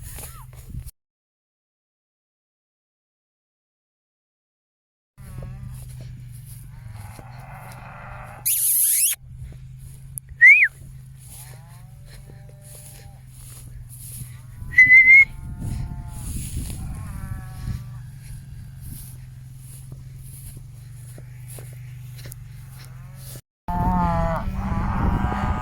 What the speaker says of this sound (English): As you can see, we've got lots of cows here around.